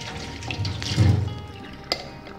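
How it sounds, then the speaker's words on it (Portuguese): A kitchen tap runs water into a sink to refill an electric coffee maker, a short, soft splashing stream that swells for a moment, with a small clink near the end. "Vou colocar novamente aqui a água"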